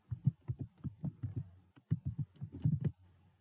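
Fingers tap out a short burst on a computer keyboard, a quick, close run of soft key clicks with a brief pause partway through and no talking.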